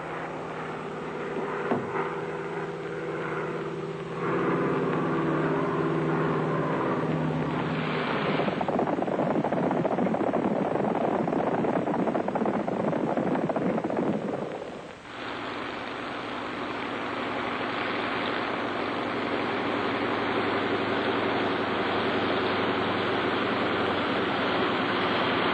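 A transport plane's loud, steady engine drone fills the whole stretch, swelling heavier partway through, dipping briefly, then settling back into a sustained rumble.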